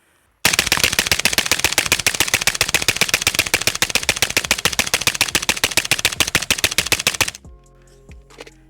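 A Stenzel SAK-21 AK rifle fires one long, loud, rapid automatic burst lasting about seven seconds, the shots sharp and close, before it stops abruptly and faint metallic clinks follow.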